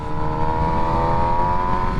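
Steady, loud engine drone with layered harmonics from a 2022 MV Agusta Brutale 1000RS motorcycle's exhaust as it accelerates, a continuous rising note with no pauses.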